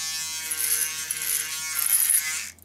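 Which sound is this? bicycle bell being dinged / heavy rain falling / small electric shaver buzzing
small electric shaver buzzing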